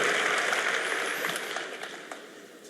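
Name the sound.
audience applauding at a conference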